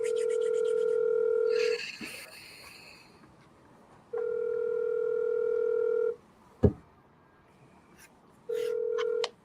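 A telephone line tone plays on a call to a number that is not in service, with steady two-second tones broken by pauses and a sharp click between them.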